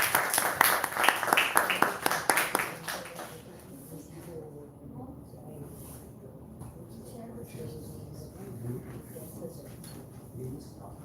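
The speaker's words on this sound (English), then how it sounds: "let's give a big round of applause" An audience at a spiritual seminar gives a round of applause, a dense burst of clapping for about three seconds that then fades into low room murmur and shuffling.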